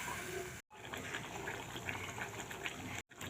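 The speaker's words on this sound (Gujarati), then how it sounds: "તો આપણે અડધો કપ પાણીનો નાખી દઈશું." Half a cup of water is poured into a pan of bitter gourd (karela) curry, a soft, quiet trickling splash that runs steadily and is cut off by two brief gaps.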